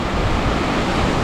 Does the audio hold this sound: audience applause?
no